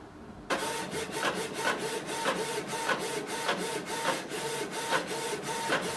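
Canon Pixma MG2522 printer running a test page, a steady mechanical whir with regular rhythmic shuttling pulses of the print head, close and continuous after it starts up.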